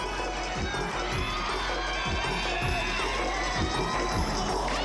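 A large indoor crowd at a women's college gymnastics meet cheers and shouts steadily, with rhythmic clapping running through the noise.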